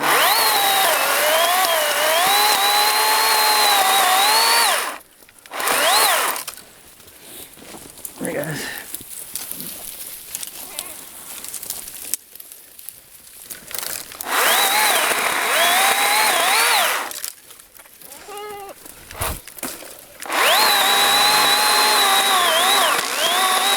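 A power saw whines loudly in bursts while cutting down a berry-laden tree during winter goat grazing, revving up and dropping off several times with quieter stretches of outdoor noise between cuts.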